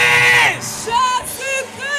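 A church crowd shouts and whoops in loud, ragged bursts, voices rising together and falling away in waves that sound like cries of amen at a lively service.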